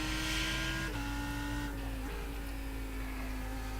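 Lamborghini Huracan GT3 EVO race car engine in iRacing, droning steadily with a strong tonal whine that drops slightly as it shifts gears twice, loud and continuous throughout.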